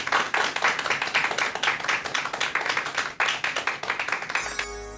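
An audience claps to welcome a lawyer's second lecture on inheritance law, a brisk, continuous round of applause, fairly close and crisp, tapering as a short musical sting begins at the very end.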